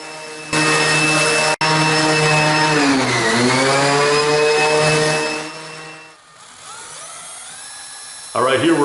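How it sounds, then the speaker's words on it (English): Power sander on a wooden work table top, a loud steady high-pitched whine that runs for several seconds, winds down, then starts again briefly at the end. "now we're doing a little bit more sanding again to just get that"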